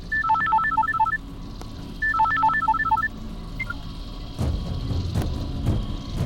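A telephone plays a short repeating electronic ringtone melody twice with a pause between, then it stops, leaving low background rumble and a few faint clicks.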